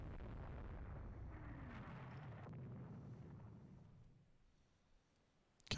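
Naval gunfire in the naval strategy game Rule the Waves 3: a deep, rumbling boom that rolls and fades out over about four seconds, then silence and a sharp click at the very end.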